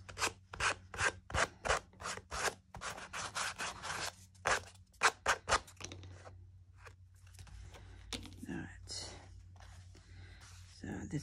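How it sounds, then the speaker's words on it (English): A corner rounder punch chomps through journal pages, giving a rapid series of sharp, close crunching clicks in a steady rhythm, followed by quieter rustling and handling of paper. "I've got the corner chomper there. I'm going to round the corners."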